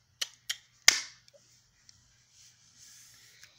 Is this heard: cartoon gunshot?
yes